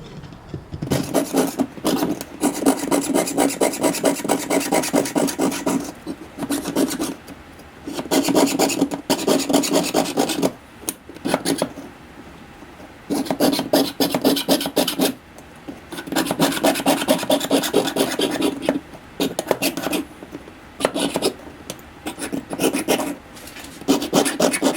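A jeweler's saw pierces metal along a pattern line against a bench pin, making rapid rhythmic rasping strokes in repeated runs of several seconds separated by brief pauses, close and fairly loud with no talk.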